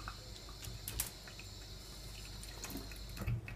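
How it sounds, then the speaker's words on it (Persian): Water runs into a container of wheat grains being soaked for sprouting, a soft trickling wash with a few brief clinks, fairly quiet and close, over a faint steady background hum. "حالا این از آب پر میکنیم"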